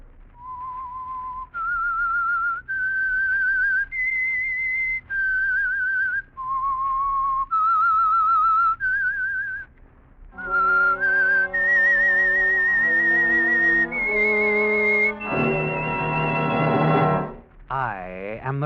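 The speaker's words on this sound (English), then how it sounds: "That whistle is your signal for the Signal Oil program" The signature whistled theme of The Whistler, a 1948 Signal Oil radio mystery program, plays as a clear, steady melody of sustained notes. It is joined midway by orchestral accompaniment that swells toward the end.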